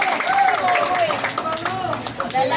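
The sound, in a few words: applause from the audience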